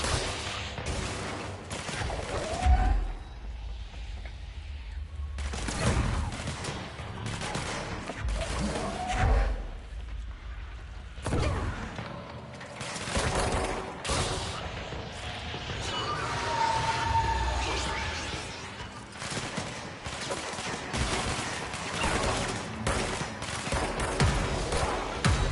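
Bursts of video game gunfire, several loud volleys and single shots spread across the stretch with gaps between them, over a busy game soundtrack.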